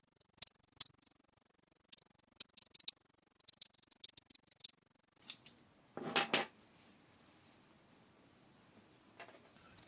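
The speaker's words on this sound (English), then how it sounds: "So the first thing I did was cut one seam open." Scissors snip through the seam of a stretchy lycra shirt in a quick series of close, crisp clicks and cuts, followed by a louder burst of fabric handling, with no talking.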